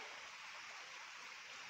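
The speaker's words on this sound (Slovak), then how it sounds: "Jeden z mnohých potokov, ktorý napája" A mountain stream in the Vihorlat hills feeds a lake, giving a steady, even rush of flowing water, faint and continuous with no pauses or voices.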